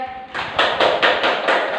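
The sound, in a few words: class clapping hands in rhythm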